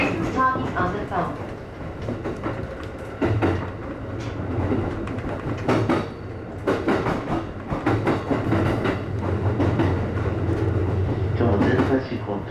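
An E531 series Jōban Line train rumbling along between Iwaki and Kusano stations, heard inside the carriage, steady low rolling noise with rhythmic clacks and thumps, and people talking over it.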